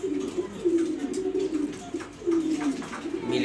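Mili pigeons, an uncommon rare-colored breed kept in a loft, coo in soft repeated throaty phrases close by, with a few quieter rustles between the calls.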